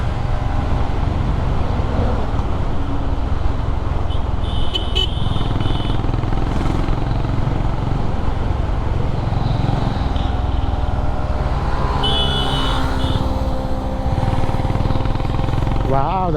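Honda CB350 Highness motorcycle cruising at about 85 km/h on an open road, a steady loud drone of engine and wind roar throughout, with faint horn toots from passing traffic.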